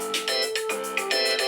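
A phone ringtone plays indoors, a loud, bright repeating melodic pattern of quick pulses that continues without a break, with no one talking over it.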